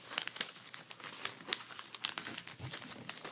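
Paper is folded and creased into the wing of a paper airplane, making close, crisp crinkling and rustling in quick irregular bursts with no talk.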